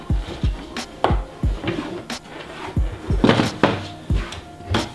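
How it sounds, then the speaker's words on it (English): A wooden drawer is worked out of a desk during a DIY setup build, giving a series of sharp wooden thunks and knocks with short scraping slides between them, loud and close. "take out the drawer"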